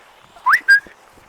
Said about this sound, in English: when I whistle like that they will come running because they think it's food